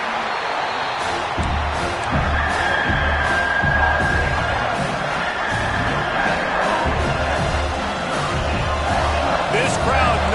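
A stadium crowd in the football video game NCAA 26 roars in a continuous, dense wall of cheering that holds steady for about ten seconds, with faint thumps and shouts scattered through it.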